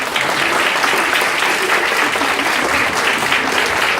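Audience welcoming a lecturer at a Korean cultural centre in Mexico with loud, sustained applause, a thick, even mass of clapping across the whole stretch with no speech over it.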